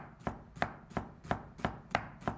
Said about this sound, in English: Turn the onion the other way and cut them nice and small